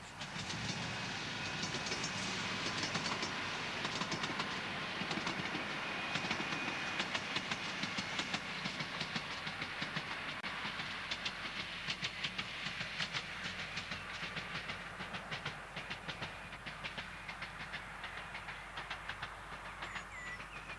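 A train on the East Suffolk line from Ipswich to Lowestoft runs steadily across Muttlesham Heath towards Woodbridge, with a continuous loud rumble and faint clickety-clack of wheels on rail filling the whole stretch, with no voices.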